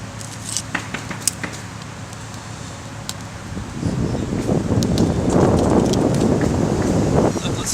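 A strong outdoor wind gust builds into a loud, steady roar and buffets the microphone, over a lighter earlier stretch broken by small clicks and taps.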